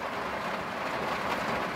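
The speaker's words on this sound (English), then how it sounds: "And as you can hear, we're finally getting some rain." Steady, hissing rain with no pauses or other sounds.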